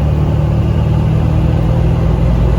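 Tuned Duramax diesel truck accelerating, a loud, close, steady low engine rumble and drone from inside the cab, continuous without pause.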